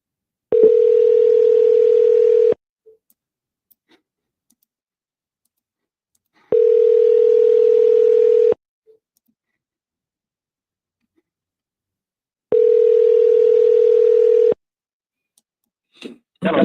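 Three long, steady telephone ring-back or dial tones about two seconds each, separated by silent gaps, while calling a seller from a deal desk; a brief click and a voice begin at the very end.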